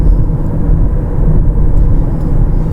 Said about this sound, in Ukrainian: Ось вам по шуму в салоні.